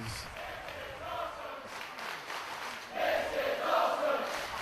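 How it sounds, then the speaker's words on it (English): A wrestling crowd at a tag-team match cheers and roars, the noise swelling louder toward the end, with no talking over it. "Crowd once again showing their appreciation for what they're seeing here."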